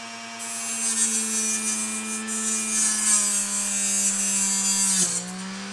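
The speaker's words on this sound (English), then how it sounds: "aluminum is a little more difficult for this saw to cut. This is the low powered version." A low-powered saw with a weak motor cuts aluminum arrow shafts, giving a steady, loud, high-pitched whine with a grinding edge and a brief dip where the blade bogs slightly.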